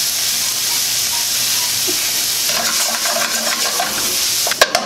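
Chopped onions fry in a hot pan for Tuscan chicken, giving a steady, close, dense sizzling hiss with faint stirring and a couple of sharp utensil clinks near the end; no one speaks.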